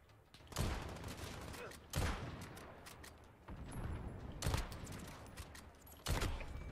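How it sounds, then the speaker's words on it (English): Gunfire in the Call of Duty: Modern Warfare video game comes as several separate loud bursts of shots, each followed by echoing tails and quieter game noise between them. "Thomas, stop shooting me."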